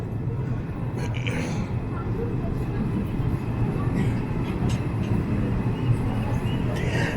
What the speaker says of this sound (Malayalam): മീൻവൈൽ നമ്മൾ ജസ്റ്റ് സ്റ്റേഷനിൽ നിന്ന് പുറത്തോട്ട് ഇറങ്ങുകയാണ്.